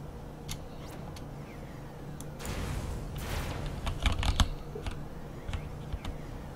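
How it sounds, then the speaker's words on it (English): Typing on a compact 84-key mechanical keyboard with Cherry switches, scattered clicky keystrokes in short bursts, faint and close, with a quick cluster in the middle over low game background noise. "Yeah, it's got cherry keys in it, it sounds like."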